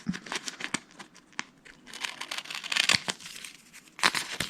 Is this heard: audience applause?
no